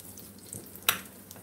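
A small test piece of salmon patty made with green onion, cornmeal and flour fries in freshly added hot oil, giving a soft steady sizzle with a sharp splash or clink near the middle, close by.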